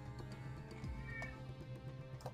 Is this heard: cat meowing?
yes